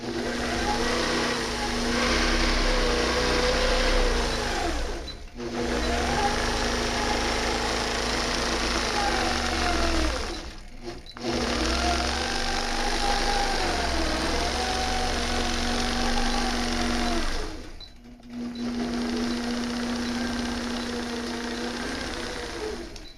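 A longarm quilting machine stitches a vintage Dresden block quilt, its steady motor hum and needle drone running continuously, broken by two brief pauses as the stitching stops and restarts.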